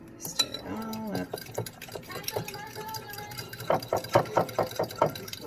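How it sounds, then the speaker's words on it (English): A fork whisks ingredients together in a cup for low-carb chocolate chip zucchini bread batter, giving close, quick clinking taps against the cup that speed up into a rapid rhythmic run near the end. "I'm going to take the same fork and I'm just going to whisk this together"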